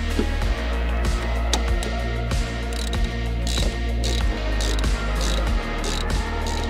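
A ratchet wrench tightens bolts on Maxpeedingrods T7 coilover suspension for a Honda Civic EJ9, giving a loud, close, steady series of rapid clicking pawl strokes with short pauses between swings.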